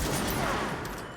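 Gunfire in the video game Control, a single loud, close shot layered over dense game noise for a little over a second, with no voices.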